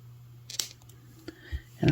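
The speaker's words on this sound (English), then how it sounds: "Now I'm going to take my cutters." Wire cutters snip a metal jewelry head pin on a beading bench, giving a few short, crisp clicks spread over a couple of seconds, close and quiet, with no talking.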